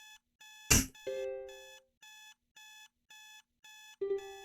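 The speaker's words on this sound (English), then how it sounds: "God, I fucking hate alarms." A video game alarm clock in a DDLC mod rings in short, evenly spaced electronic beeps, loud and alone, broken once by a sharp burst and a few brief chimes before the beeping resumes.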